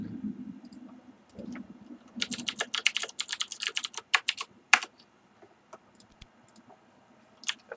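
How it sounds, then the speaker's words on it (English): Rapid clicking of a computer keyboard during an online game session, bursts of close, crisp keystrokes after a few faint low murmurs, then scattered isolated taps trailing off. "Sorry, I'm typing."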